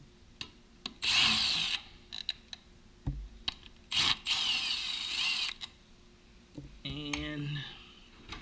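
Bolts being removed from the starter cover of a Kawasaki ZX-10 motorcycle with a power driver, heard as several short loud whirring bursts at close range, with speech in between.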